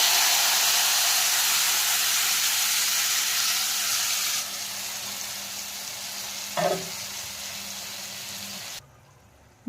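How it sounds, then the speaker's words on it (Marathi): Spices and bay leaves fry in hot oil for an aubergine and potato curry, a loud continuous sizzle and hiss that drops in level midway, with a short clink before going quiet at the end. "मसाले आता मस्त फ्राय झाले"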